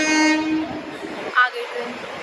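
A passenger train arriving at a railway station in India, a horn blaring briefly at the start over platform rumble, with people talking nearby.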